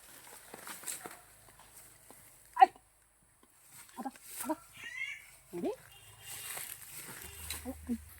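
A dog barks sharply once amid scattered voices and household noises, fairly close by.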